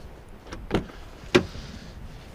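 Door locks on a 2007 Lexus GS 450h engage from the handle button, producing two distinct close clunks about half a second apart against a quiet background with no voices.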